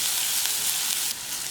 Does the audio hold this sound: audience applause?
no